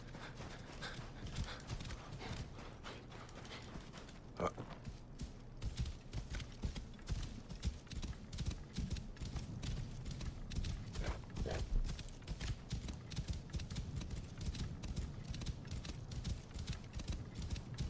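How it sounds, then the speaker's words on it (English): Horse hooves clip-clopping in the Egyptian open world of Assassin's Creed Origins, a steady run of rhythmic hoof falls throughout with game ambience and a few sharper knocks mixed in. "Bring out my horse."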